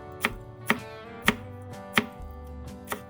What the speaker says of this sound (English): Cut the washed coriander into pieces of your desired length.